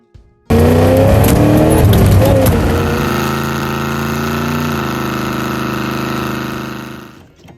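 A 1979 Pontiac Firebird's engine turning over and catching from nearly cold, loud and close, revving high briefly before settling into a steady rumbling idle, then cutting off near the end.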